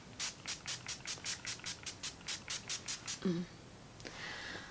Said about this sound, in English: so that you can maybe see the mister in action, because it's very soft, it's very fine